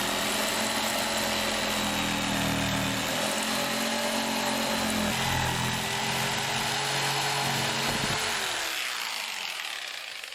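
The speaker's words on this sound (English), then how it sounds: "I think I drilled all the holes that I need to drill for now." A power drill boring holes through framing for a bathroom drain rough-in, a loud, continuous motor whine with shifting pitch as the bit bites, winding down near the end, with no talk.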